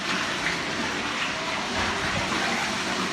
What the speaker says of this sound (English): Hear that drain pump kick in? Drain all that water out.